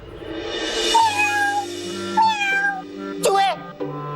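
A person imitates a cat's meow in a household scene, giving several drawn-out, wavering meows at about one-second intervals, close and fairly loud over a steady background hum.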